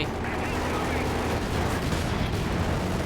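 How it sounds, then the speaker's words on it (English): Artillery barrage in a competitive real-time strategy match, a dense continuous wash of distant rumbling blasts and crackling fire lasting throughout, with a commentator's voice woven underneath. "Keeping him penned in with a light artillery barrage"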